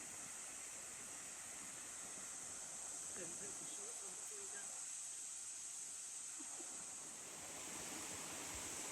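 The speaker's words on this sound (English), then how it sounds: "that noise you can hear is over that way. That's the running creek" Broadband rushing water from a running creek near Surprise Creek Falls in the Northern Territory's Big Rivers region, a steady hiss with faint voices in the middle.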